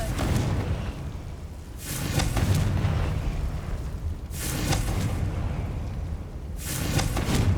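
Three heavy Confringo blasts from the spell in Hogwarts Legacy, spaced a few seconds apart, each a loud booming burst over a constant low rumble of game ambience.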